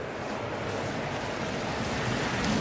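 Wind blows outdoors at Manchester Airport, a steady broad rushing noise with a soft buffet on the microphone, with no voices.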